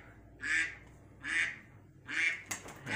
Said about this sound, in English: This one's duck quackings, if you cannot tell already.